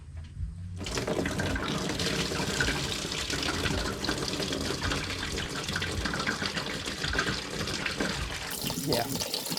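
Water gushes steadily from a car's engine cooling system as it is drained during a donor engine pull, plain water with no coolant, a continuous close splashing flow lasting nearly the whole stretch, with speech-like sounds mixed in.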